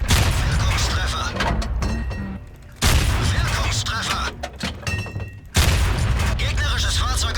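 Tank cannon shots in World of Tanks, heavy booming blasts at intervals of a few seconds, each followed by rumbling battle noise, with a voice talking over them.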